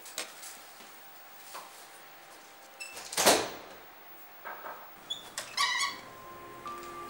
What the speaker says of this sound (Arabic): الباب